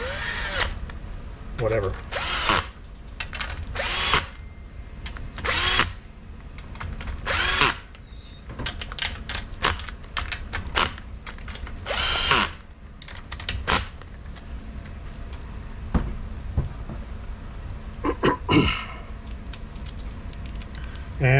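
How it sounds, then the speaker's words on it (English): Cordless drill screw gun driving screws on a Tecumseh engine governor repair, in repeated loud whirring bursts of one to two seconds with pauses between, under occasional talk. "I'm going to run these down with the drill screw gun right quick"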